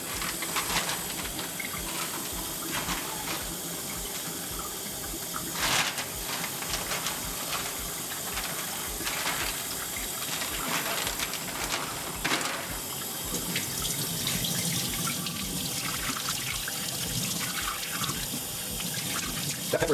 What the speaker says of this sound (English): So now I'm going to remove them from the package and wash them under cold water.